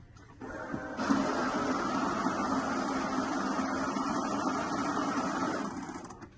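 A Glory GFS-220 money counter whirs up and rapidly riffles through a stack of banknotes in one continuous buzzing run, close and steady, then winds down and stops.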